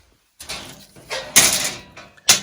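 Knockout tabs being knocked out of a metal electrical panel in a pole barn: a few sharp metallic taps and short scraping knocks, close and fairly loud, with no speech.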